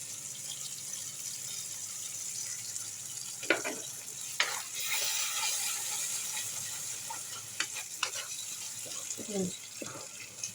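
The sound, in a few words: poppy seed, melon seed and cashew paste added to sizzling oil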